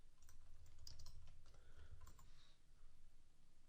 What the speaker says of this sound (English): So let's type in Weight Watchers